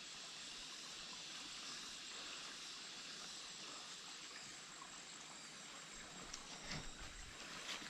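Water trickling out from under bedrock high on a mountain, a steady soft hiss of flowing water heard faintly and continuously, with a few small splashes near the end.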